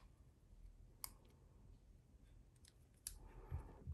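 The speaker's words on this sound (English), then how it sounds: "I'm just gonna go ahead and trim it better" Scissors trimming paper for a handmade stamped card, two or three faint, close snips and clicks in a quiet room.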